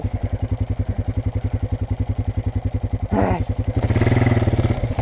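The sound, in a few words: Honda dirt bike engine revving through a mud pit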